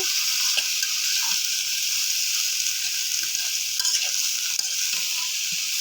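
Tomato and potato fry together on a stove, giving a constant loud sizzle with soft stirring clicks throughout and no talking.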